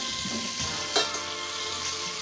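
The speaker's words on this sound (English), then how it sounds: "You just want them to be nice and seared on each side, and then they're perfect." Food sears steadily in a hot pan with a continuous broadband sizzle and faint stirring scrapes, one brief louder flare near the middle, close and alone with no talk.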